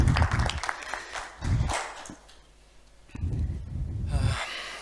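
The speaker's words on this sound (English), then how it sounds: "Round of applause." An audience applauds at a talk about a virtual reality trauma training simulator. Clapping comes in bursts, fades, then swells again, and a few close breathy noises sit near the microphone.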